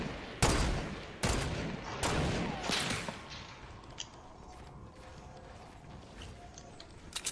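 Sniper rifle shots in the video game Fortnite: several loud, sharp cracks spaced about a second apart, each followed by mechanical bolt-action clicks, with smaller clicks and distant pops trailing off.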